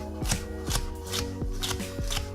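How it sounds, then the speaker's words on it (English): A knife cuts at an angle around a core, then juliennes the flesh. About five crisp, evenly spaced chops strike a cutting board up close, in a steady rhythm with no talking. "cutting at an angle like this around the core there, and then you could just julienne this"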